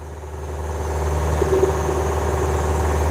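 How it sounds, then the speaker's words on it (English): A sailboat's inboard engine runs steadily below deck while sailing from Fiji to Vanuatu, a constant low droning hum with a slight swell in level, no voices over it. "It's the engine you hear in the background"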